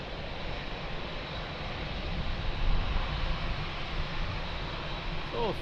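A Boeing 787 jet departs Lisbon Airport, its engines a broad, steady roar that swells gently in the middle and holds at a distance throughout.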